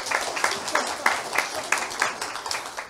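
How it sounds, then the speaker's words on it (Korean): Audience applause at a marketing-plan seminar in Korea, a steady patter of many hands with regular swells, moderately loud and close, with no talk over it. "박수 한번 쳐주세요, 여기."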